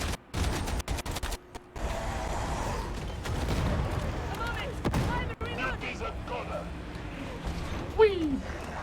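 Auto gun firing in Warhammer 40,000: Darktide, with rapid bursts of gunfire cracking through a busy fight, sharp shots punctuating a dense battle din while someone talks over it.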